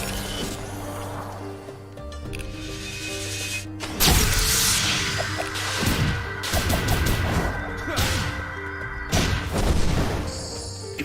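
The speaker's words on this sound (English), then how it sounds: "God, I love that explosion sound." Explosions boom and crash in the video game Sonic Frontiers during a battle with a wyvern, starting with a loud blast and followed by a string of heavy thuds and smashes over game music and effects.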